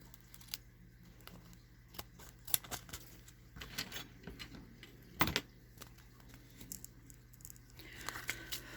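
Small, quiet, irregular snips and clicks from scissors trimming a paper craft shaker tag close up, with a sharper cut midway and soft handling rustles.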